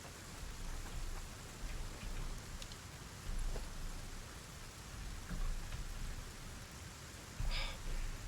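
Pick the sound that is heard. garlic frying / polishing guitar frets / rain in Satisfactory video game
rain in Satisfactory video game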